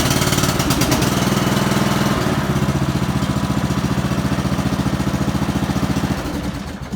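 A Yardman MTD lawn tractor engine runs close and loud with a steady, throbbing rumble that holds even throughout before easing slightly at the end.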